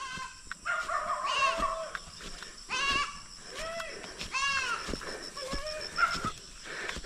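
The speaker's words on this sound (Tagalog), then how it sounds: "Yung kambing natin" Goats bleat repeatedly on a farm, several wavering cries spaced across the stretch, fairly close, with quieter animal and insect sounds between them.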